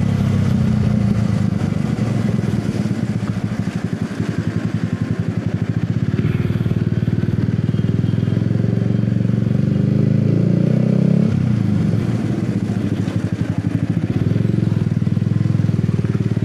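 A Yamaha R15 V3 motorcycle with three years of use runs its engine in a steady low rumble throughout, loud and close, with slight shifts in pitch as it idles or moves.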